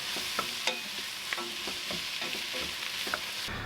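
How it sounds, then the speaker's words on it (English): Onions softening in a pan with a knob of butter and a tablespoon of garlic give a steady low sizzle, broken by several sharp scrapes and taps of a utensil stirring, with no one talking. "I've started cooking my onions a little bit, then I added a knob of butter to help the caramelization process, and I also added a tablespoon of garlic"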